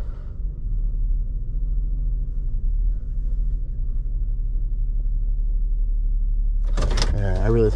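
A 2018 Toyota Sienna minivan with a misfire and crank-no-start fault runs as a steady low rumble close by, then a sudden higher burst of noise near the end as someone talks.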